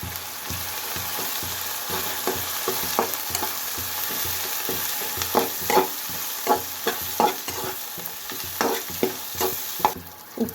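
Chopped onions fry in hot oil with turmeric and dried red chillies for a dosa potato filling, a constant close sizzle broken by repeated scraping strokes of a spoon that grow sharper toward the end.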